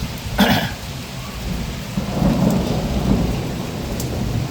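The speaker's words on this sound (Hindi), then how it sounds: "और ऐसे बिजली गरज रही है और भयंकर बादल हो रहा है और बारिश हो रही है भयंकर" Steady heavy rain pours down while a sharp thunderclap cracks early and a deeper rumble rolls through the middle, no voices.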